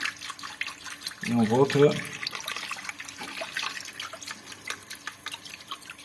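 Hot tap water running over a plastic kitchen sink drain joint during unclogging, a steady splashing stream with a brief louder gush, while a person speaks briefly in French.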